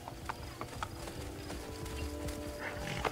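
Horse galloping in Assassin's Creed Brotherhood, a steady fairly quiet clip-clop of hooves with game ambience, no talking.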